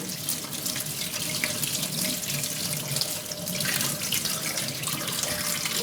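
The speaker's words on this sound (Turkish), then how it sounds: "Biraz soğuk suya tutuyoruz arkadaşlar" Cold tap water runs steadily over boiled manti dumplings in a kitchen sink, a continuous close splashing rush with no talk.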